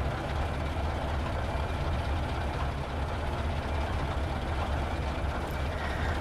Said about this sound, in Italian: Il suono delle marmitte